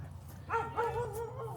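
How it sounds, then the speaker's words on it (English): A dog on a rural property with a barn and yard gives a few short, moderately distant barks and yips over a steady low background hum. "I hear a dog."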